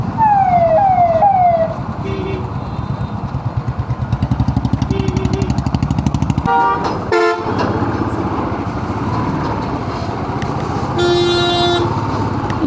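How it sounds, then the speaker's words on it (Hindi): Heavy road traffic on the way from Delhi to Rishikesh, loud and close, with repeated honking horns in short bursts, a siren wailing, and engines droning steadily underneath. "यहाँ पे पहुँचे तो इस टाइम बहुत ह्यूज ट्रैफिक है"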